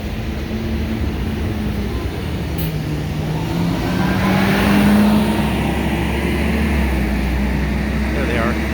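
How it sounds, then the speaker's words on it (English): Road traffic passing on a city street during a police arrest, a steady engine rumble swelling as vehicles drive by close, with broadband tire and wind noise and a voice talking over it. "The cars are getting in front of me here."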